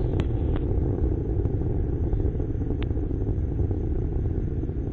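Solid rocket motors on a Delta II rocket roar during the launch of the Phoenix Mars Lander, heard as a dense, continuous low rumble with faint crackle and a few light clicks.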